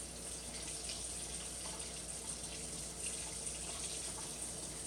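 Tap water runs steadily over a metal icing tip, a continuous hiss of flowing water and splashing that stays even and close throughout, with no talking.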